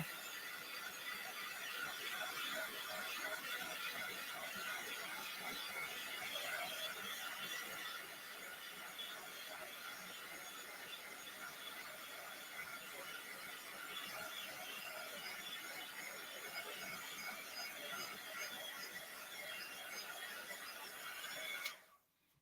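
A clothes dryer hums and whirs steadily, with a high-pitched mechanical whine running continuously until it cuts off at the end.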